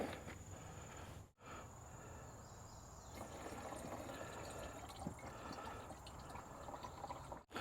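Leftover fuel poured from the filter bowl of a CAT 313 excavator into a container, a steady faint liquid trickle and splash running throughout with no talk.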